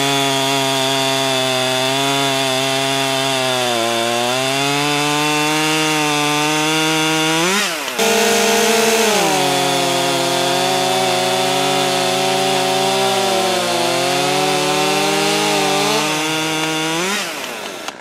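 A 39cc Husqvarna T540XP III chainsaw cutting through oak, its engine screaming loud and close at high revs, with pitch sagging under load, a brief drop midway, then a second sustained cut. Nobody talks.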